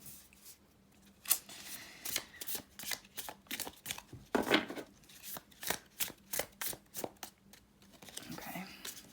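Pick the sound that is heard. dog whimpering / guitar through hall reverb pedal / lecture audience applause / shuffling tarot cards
shuffling tarot cards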